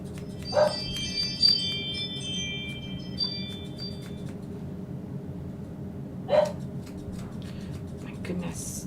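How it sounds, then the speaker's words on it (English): A dog named Jude barking at a grooming salon, two or three short sharp barks spaced apart over background chatter and a faint hum. "My goodness, and Jude's barking."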